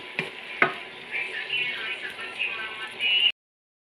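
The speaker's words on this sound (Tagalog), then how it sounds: "ito luto na po yung ating iginisang sibuyas, kamatis, bawang" Onion, tomato and garlic sizzle and crackle in a hot pan with a couple of sharp utensil knocks near the start, a steady close frying hiss throughout that stops abruptly.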